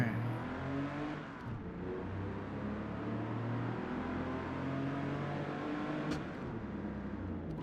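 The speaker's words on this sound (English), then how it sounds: "Alright, 9 seconds, 0 to 60. Good job. Good job, car." An older car accelerating hard from 0 to 60 in about nine seconds on a slight downhill, with a steady engine drone rising in pitch through the gears, heard continuously from inside the cabin.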